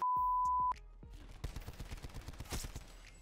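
Rapid gunfire bursts from a Black Ops 4 match follow a short electronic beep, with shots cracking in quick succession at moderate loudness for a couple of seconds.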